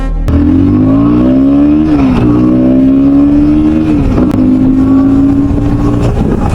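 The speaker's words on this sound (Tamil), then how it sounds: "நான் இப்போ ஆர்பிஎம் ரைஸ் பண்ணுறேன், அந்த சவுண்டை மட்டும் கேளுங்க" A KTM Duke 160 motorcycle engine revs up close and loud: a steady, throaty harmonic drone that climbs in pitch, dips briefly, then rises and holds again over about six seconds.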